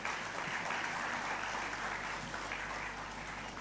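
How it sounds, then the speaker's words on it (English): Applause from an audience at a conference talk, a continuous, fairly quiet wash of clapping that holds steady throughout with no voices on top. "Lagos deserves a small round of applause for that"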